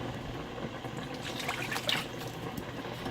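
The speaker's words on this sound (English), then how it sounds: "then you just add some water" Water is added to a pan on a stovetop burner turned up high while a chicken dinner is cooked, making a soft, quiet trickle and splash that runs for a few seconds with no talk.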